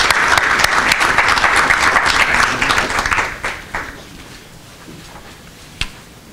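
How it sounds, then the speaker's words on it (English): An audience at a chamber of commerce breakfast claps loudly and steadily for about three seconds, then the applause thins out into scattered claps and fades, with one last sharp clap near the end. "So please give him a round of applause."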